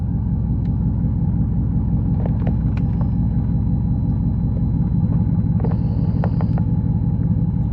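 Old truck with about 290,000 miles idling just after startup while showing low oil pressure, a steady loud low engine rumble throughout with a few faint clicks on top.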